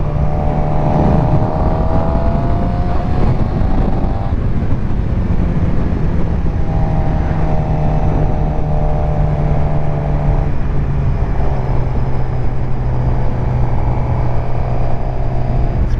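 A sport bike or Harley motorcycle speeds along a straightaway with a loud steady engine drone under constant wind roar, and the engine pitch rises and shifts in several stretches.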